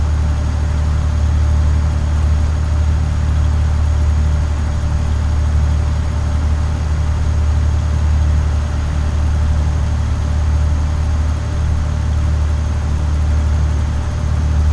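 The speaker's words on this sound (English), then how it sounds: "Exhaust brakes are nasty." A truck engine under exhaust braking gives a loud, steady low rumble and drone that holds without a break for the whole stretch, close by and alone with no talk.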